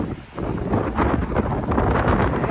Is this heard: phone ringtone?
no